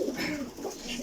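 A pigeon of a Pakistani high-flying breed gives a short, soft coo nearby, a brief throaty murmur just over a second long with no speech.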